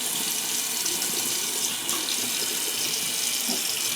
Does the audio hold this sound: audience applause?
no